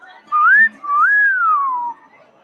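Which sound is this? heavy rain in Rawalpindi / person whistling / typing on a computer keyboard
person whistling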